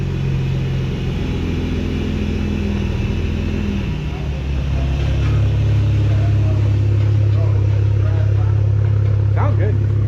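Cadillac ATS-V twin-turbo V6 idling after a remote start: a steady, deep exhaust drone that shifts to a lower, smoother tone partway through, with people talking nearby.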